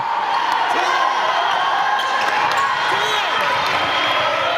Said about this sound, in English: And a little noise starting to come from the Pikeville crowd.